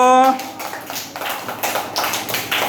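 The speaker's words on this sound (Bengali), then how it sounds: "ওর জন্য একটা হাততালি দাও তো" Children in a second-grade classroom clap for a classmate, giving a scattered burst of hand claps that comes after a brief spoken voice and continues unevenly until the end.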